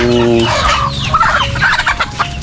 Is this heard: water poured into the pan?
no